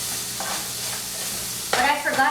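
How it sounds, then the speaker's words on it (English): Pasta tossed with pesto in a pan under a soft background sizzle, then a loud burst of scraping and clattering stir strokes near the end, close and without talk. "let's give it a stir"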